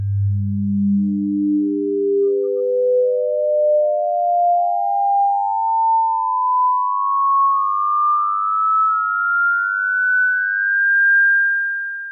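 Pure sine tones climb the harmonic series one after another, each overtone a step higher and closer in pitch than the last, steady and clean with no other sound.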